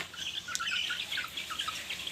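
Hungry backyard chickens keep up a busy stream of high chirps and short calls, several birds close together and fairly loud, with no speech over them.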